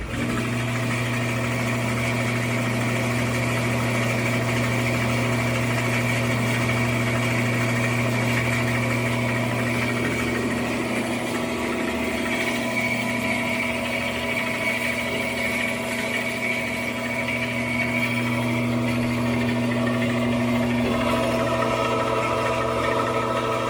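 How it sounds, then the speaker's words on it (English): A Jet 14-inch bandsaw runs after a tune-up, a steady loud motor hum with strong low tones and a whirring blade drone, continuous and unbroken for the whole stretch without talk. "Let's turn it on and see what happens."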